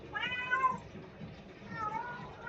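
Two drawn-out cat meows from the Growtopia video game, moderately loud and close, separated by a short pause.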